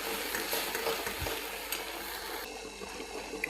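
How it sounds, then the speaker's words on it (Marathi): Beetroot halwa being stirred in a pan over low heat as the milk reduces: a continuous soft sizzle with occasional scraping stirs, fairly close and without speech. "अधूनमधून आपण परतत राहिलो आहे कारण ते खाली करपणार नाही याचंही आपल्याला लक्ष द्यावे"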